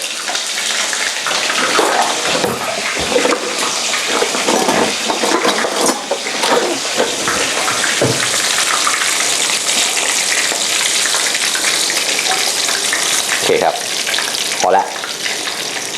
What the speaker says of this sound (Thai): เดี๋ยวเราลงทอดแป๊บเดียวครับ